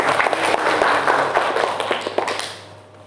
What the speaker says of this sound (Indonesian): Beri tepuk tangan ya untuk kelompok 6